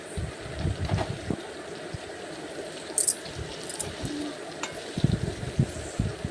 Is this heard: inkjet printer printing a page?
no